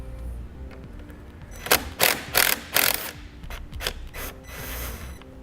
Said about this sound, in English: using a 10mm socket, I want to loosen up this nut right here.